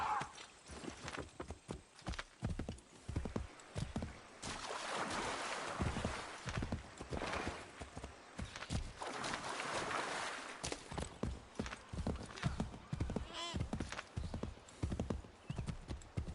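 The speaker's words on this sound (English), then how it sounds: "I'll fast travel with the horse this time" Hooves clip-clop in a quick, steady rhythm as a horse gallops in Assassin's Creed III, with a brief whinny and a faint voice in the background.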